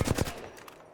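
Game gunfire through Letshuoer S12 earphones: a short burst of rapid shots at the very start, loud and close, then fading into a quiet tail with no talk.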